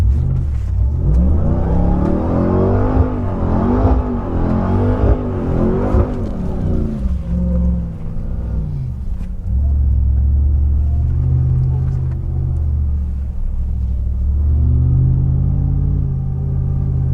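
A brand-new Dodge Dakar Rally race vehicle revs hard with a deep, loud roar, rising and falling in pitch over several bursts before settling into a heavy rumbling idle with further throaty revs.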